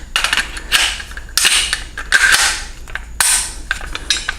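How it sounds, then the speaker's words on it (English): Takedown pins on an AR pistol are pressed in to lock the upper receiver onto the lower, giving several close, sharp metallic clicks and scrapes of parts fitting together, with no talking. "All right, pop these pins."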